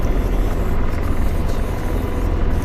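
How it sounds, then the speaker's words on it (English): A Mi-8 helicopter in a military video game flies with a loud, dense rotor and engine roar that holds steady throughout with no talk over it. "there is an Mi-8 that's leaving Fastburg right now"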